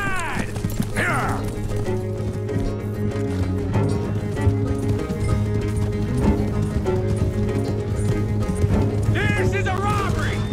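Horses galloping during a robbery ride in a video game, a steady clip-clop of hooves under constant game noise, with occasional whinnies and voices calling out over the ride.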